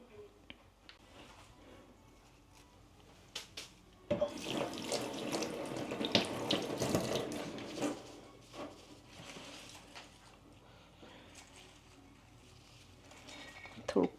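Water runs from a tap in a home, starting abruptly and gushing loudly for a few seconds before easing to a lighter trickle, with faint handling sounds around it.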